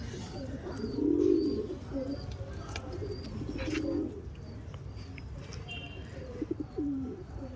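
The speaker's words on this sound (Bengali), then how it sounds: "অনেক পায়রা আসে" Pigeons at a rooftop loft coo in soft, low rolling phrases, a longer burst early and another midway, with faint chirps and a few wing flutters nearby and no talking.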